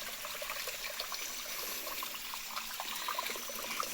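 Water trickles in a thin, steady flow across a sugarcane field setting, a continuous soft hiss and patter with no talk.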